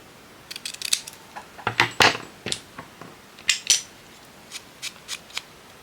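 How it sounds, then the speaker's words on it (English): Scissors snip through paper scraps in short, crisp bursts, a dozen or so quick close cuts with brief pauses between them and no talking. "I'm going to cut this one off straight."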